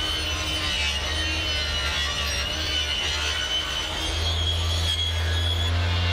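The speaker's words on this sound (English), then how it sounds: "now I'm going to go back and very carefully square up one edge of that offcut" A table saw in a woodworking shop squares up the edge of a wooden offcut, a steady loud whirring hum with a rising tone as the blade bites, continuous and close, with no one talking.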